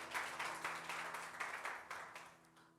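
Congregation clapping hands during a Telugu Christian worship service, a steady rhythmic beat of claps at moderate volume with a sustained tonal hum of music underneath.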